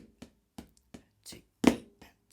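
Drumsticks strike a compact practice pad slowly, each hit a soft doubled flam. Six or seven light taps come at an even, unhurried pace with one louder accent, close and dry, with no talking.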